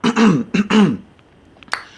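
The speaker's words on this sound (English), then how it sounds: "I gotta clear my throat" A person clears their throat up close: three loud, gravelly rasping bursts in quick succession, then quiet with a couple of small clicks and a short breathy sound.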